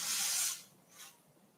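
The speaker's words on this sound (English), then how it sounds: "I'm just going to give it a little bit of freeze spray." Freeze spray blasts briefly onto a sugar or chocolate showpiece, a strong hiss lasting about half a second followed by a shorter, fainter second burst, close and quiet with no speech.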